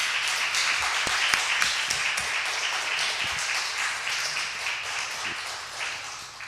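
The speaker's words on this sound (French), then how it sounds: "peut-être applaudir nos deux orateurs" Audience at a morning conference session applauding two speakers, a steady moderate patter of many hands clapping throughout, with a few sharper individual claps standing out.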